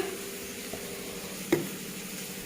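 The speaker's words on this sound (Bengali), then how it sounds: "দেখো আমি ভাজছি কি সুন্দর করে" Fish frying in a pan at home gives a steady, soft sizzle that runs unbroken from start to finish, with one brief louder crackle near the middle and no talking.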